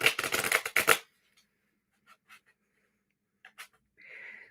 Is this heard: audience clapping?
no